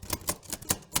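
A burst of typewriter keystrokes, five sharp separate clacks in an uneven rhythm, close and moderately loud with short gaps of quiet between them.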